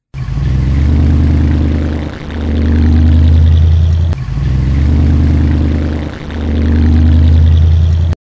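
A toy orange van's driving sound: a loud, low engine rumble that swells and eases in repeating waves, steady and close throughout.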